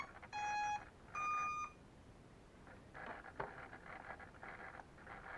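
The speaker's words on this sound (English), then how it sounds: "this is power to the other rail, which is the motors, and you'll hear them start up" The VTOL drone powers up with two short electronic startup beeps, then its motors spin up into a softer, fluttering whir that sounds close by.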